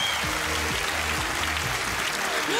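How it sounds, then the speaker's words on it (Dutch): Audience applause for Kees van der Spek at a Dutch television show, a steady dense wash of clapping filling the whole moment, with low tonal music underneath. "mag ik een groot applaus voor Kees van der Spek"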